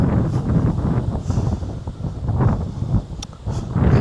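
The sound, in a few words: strong wind blowing at a hilltop campsite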